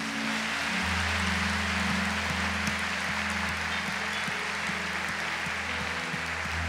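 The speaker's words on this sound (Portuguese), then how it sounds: "Quero pedir para você aplaudir as famílias" An audience applauds the families at a Catholic gathering with Canção Nova, a broad, steady wash of clapping held at even loudness under a sustained low musical drone.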